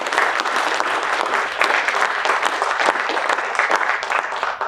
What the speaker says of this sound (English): Let's give all of our presenters one last big round of applause.